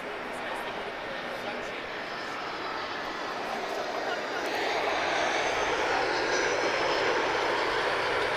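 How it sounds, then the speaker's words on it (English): Ryanair Boeing 737-800 jet taking off at Lisbon Airport, a steady broadband engine roar that swells louder partway through, with a person talking over it. "Ryanair, Foxtrot Romeo 1990, off to London Stansted. This is a 737-800."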